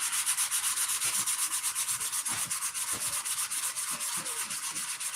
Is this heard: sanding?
yes